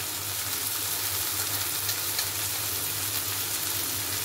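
Goat meat curry frying in a pan as turmeric powder goes in, a steady, even sizzle at moderate volume with no talking.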